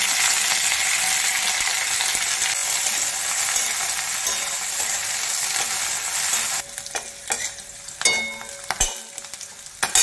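Green chillies, garlic and curry leaves sizzle and crackle steadily in hot oil for a paneer 65 dish, the frying loud and continuous before thinning into scattered pops and clinks of stirring near the end.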